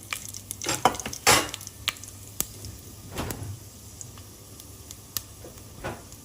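Whole spices — star anise, bay leaf, kalpasi and marathi moggu — dropped into a hot pan, giving scattered clatters and light sizzling with a few sharper knocks and a soft scrape, fairly close and not loud, no talking.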